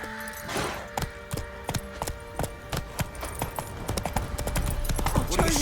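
Geralt's horse Roach clip-clops along in The Witcher 3: Wild Hunt, a steady rhythm of distinct hoof strikes with tack jingling, under faint background music and a little talk.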